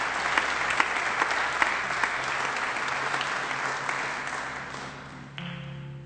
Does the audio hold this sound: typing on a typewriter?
no